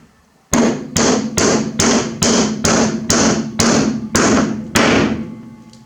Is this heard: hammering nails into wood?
yes